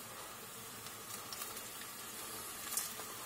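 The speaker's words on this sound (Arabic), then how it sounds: "علشان اعرف الزيت بتاعي سخن بحط كده حتة بصلة خضرة" A piece of green onion dropped into hot frying oil, heated for frying potatoes, sets off a soft, steady hiss and bubbling at low level with a few faint pops.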